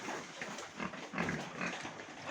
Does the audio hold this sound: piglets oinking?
yes